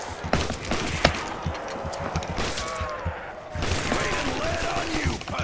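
Gunfire in a Call of Duty: World at War zombies custom map, a busy stream of sharp shots and bursts with crashing effects mixed in, loud and continuous over dense game noise.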